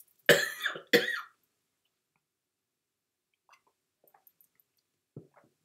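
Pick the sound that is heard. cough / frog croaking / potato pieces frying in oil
cough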